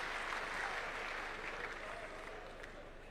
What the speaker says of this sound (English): A round of applause for Powerman.